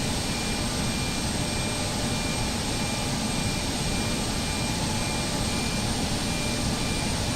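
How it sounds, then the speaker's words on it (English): In the X-Plane flight simulator, a jet engine on an Embraer Lineage 1000 spools up during start, a constant loud roar and whine that holds steady throughout without any voices. "Right, good start on engine number 2, starting engine number 1."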